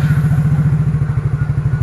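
Motorcycle engine idling close by as a grandmother climbs on to leave, a loud, steady thumping putter with an even rapid pulse throughout and no speech.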